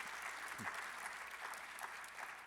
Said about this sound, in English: So if you want to clap for the stipends